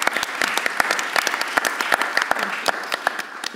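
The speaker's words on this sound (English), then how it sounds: "Do we get to applaud Jen before we can." Audience applause at a music business panel, a steady patter of many hands clapping with sharp individual claps throughout, moderately loud and close, no talking.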